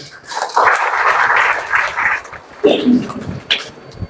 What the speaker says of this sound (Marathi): सर्वांसाठी जोरदार टाळ्या झाल्या पाहिजे